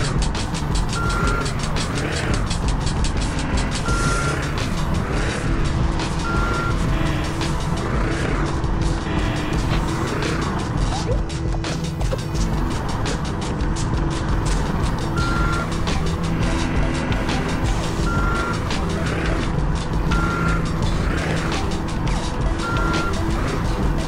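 A truck in the Sneaky Sasquatch video game reverses while cargo is loaded, its backup alarm beeping at a steady, regular rhythm over a loud, continuous engine drone.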